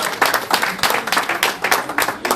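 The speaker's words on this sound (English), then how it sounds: "Please give Michael a round of applause one more time." An audience at a town hall meeting in Brisbane applauding, a dense steady patter of many hands clapping that fills the room, fairly loud throughout.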